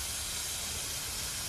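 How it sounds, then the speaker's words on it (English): A steady, broad hiss of steam comes from a freshly fired steam engine, continuous and even at moderate level with a low rumble beneath it. "Now we should be able to make some more steam now."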